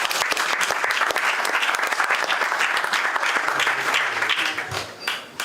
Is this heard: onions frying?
no